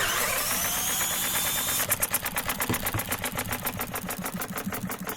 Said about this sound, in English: So let's run the engine now and hear it working.